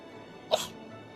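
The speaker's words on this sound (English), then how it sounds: "That was a weird sneeze." A single short, sharp sneeze bursts out briefly against a quiet background.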